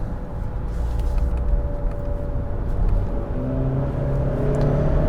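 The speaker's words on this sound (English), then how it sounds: "Get some nice rev match downshifts." A 2022 Hyundai Santa Cruz 2.5T Limited pickup downshifts in sport mode with the stability control off, its engine droning steadily inside the cabin and then stepping up in pitch as the revs are matched, with no talking.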